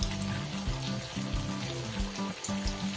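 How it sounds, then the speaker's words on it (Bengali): Moong dal puli dumplings frying in moderately hot oil give off a continuous soft sizzle and bubbling fizz, with steady tonal sounds running beneath. "তেলটা মোটামুটি গরম হলে আমি এবার পুলিগুলো ছেড়ে দেব তেলের মধ্যে"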